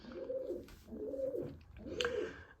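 Pigeons coo inside a loft, three rolling cooing phrases in a row, each swelling and fading, fairly close and clear, with no talk.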